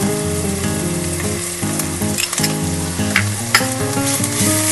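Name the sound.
onions and ginger garlic paste frying in a pan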